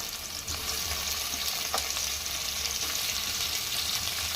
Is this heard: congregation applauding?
no